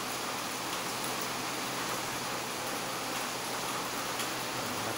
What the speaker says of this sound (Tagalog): Ang ingay ng ulan ng ating vlog ngayon